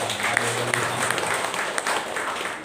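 A church congregation claps in praise of God during a worship service, a fairly soft, even wash of hands with a few sharper claps standing out.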